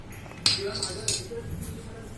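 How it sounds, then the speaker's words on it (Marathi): The lid of a cooled pressure cooker is lifted off in a kitchen, giving a few light metallic clinks and clatters, close and brief, against a quiet background. "आता कुकरचे झाकण काढून"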